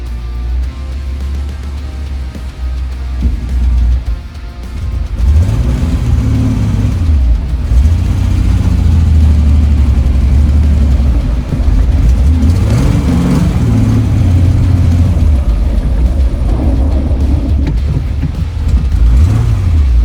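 A Reliant Scimitar with a manual gearbox drives off in gear, its engine droning loud and close with repeated rising and falling revs as it pulls away and shifts.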